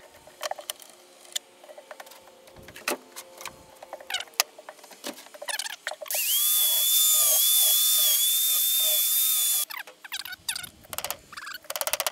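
A metal fitting is ground down with a power tool, a steady high-pitched whine lasting about three seconds, set between scattered clicks, taps and workshop knocks.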